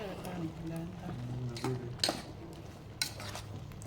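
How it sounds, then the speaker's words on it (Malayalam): Ground coconut paste being stirred into pumpkin cooking in a pot, with a spoon clinking and scraping against the pot in a few sharp knocks under steady background hum and a voice speaking. "അതിലോട്ട് നമ്മൾ ആ അരപ്പിട്ട് കൊടുക്കാം പിന്നെ ഒന്ന് മിക്സ് ചെയ്ത് കൊടുക്കാം"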